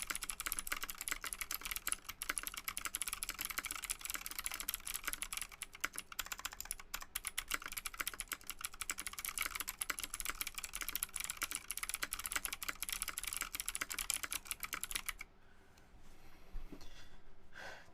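Rapid, dense clicking from a clicky modded computer keyboard rattles on continuously, close and crisp, then cuts out near the end, leaving quieter background sound.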